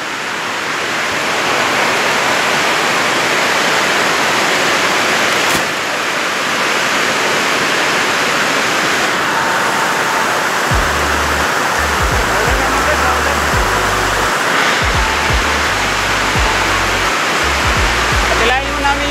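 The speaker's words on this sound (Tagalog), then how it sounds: "Malakas kasi ulan guys." Heavy rain pours down during a typhoon, a dense, loud, steady roar that never lets up, with low rumbling thumps breaking in toward the end.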